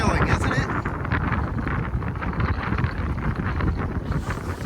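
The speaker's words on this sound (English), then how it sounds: "This is spirited sailing, isn't it?" A sailboat heeling through spirited sailing in strong wind, with a steady roar of wind buffeting the microphone and rushing water filling the whole stretch, loud and close throughout.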